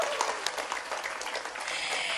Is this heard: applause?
yes